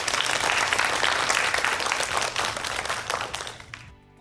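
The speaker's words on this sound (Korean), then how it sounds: "다시 한번 큰 박수 부탁드리겠습니다" An audience at an NFT lecture and contest event gives a full, lively round of clapping that holds steady for several seconds, then tapers and cuts off abruptly.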